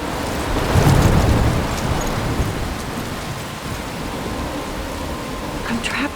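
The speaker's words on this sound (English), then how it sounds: "I'm trapped in a storm?" Thunderstorm rain in the video game Life is Strange: a loud, steady hiss of heavy rainfall with a low rumbling swell early on, continuous throughout.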